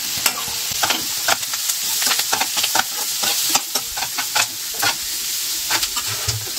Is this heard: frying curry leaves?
yes